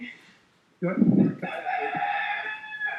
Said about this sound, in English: Miss that rooster.